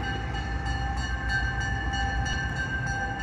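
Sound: Buckingham Branch freight train Z630 passing eastbound

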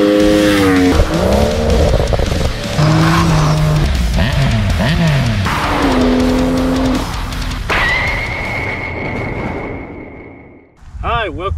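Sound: Triumph Scrambler 1200 XC motorcycle engine

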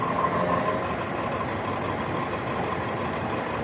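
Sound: Hino RK bus engine idling in parking lot

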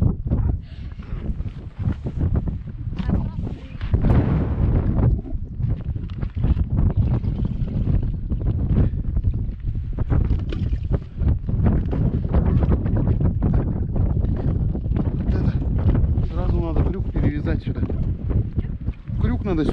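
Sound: strong wind outdoors while fishing

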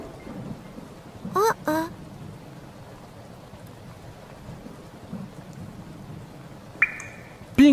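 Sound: rain and thunder in a children's cartoon

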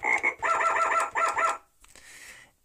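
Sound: frog croaking sound effect

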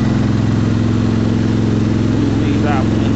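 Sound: tractor engine running during mulch job

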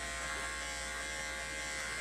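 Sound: Andis 5-speed electric clipper shaving a dog

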